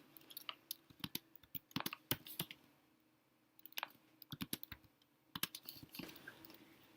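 Quiet clicking of a computer keyboard while numbers are entered into a Sudoku game, irregular bursts of keystrokes with short pauses, close and soft, no voices.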